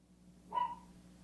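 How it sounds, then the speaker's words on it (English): A single short dog bark or yip, faint and somewhat distant, rising briefly out of a quiet indoor background. "My dogs have started barking because they heard me yelling in the basement."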